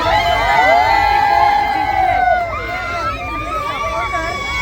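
Supporters at a sailing boat race in the sea off Agrav village near Alibag cheer a victory, a loud crowd of shouting and whooping voices with excited calls rising over the hubbub.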